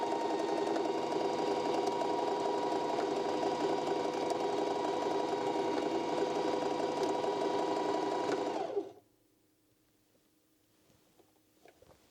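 A sewing machine runs steadily at close range while pants are darned, a continuous rapid whirring hum that stops abruptly near the end, leaving near silence.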